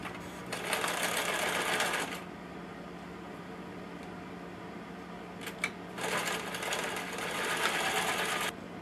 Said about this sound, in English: you just want to top stitch across both of those ends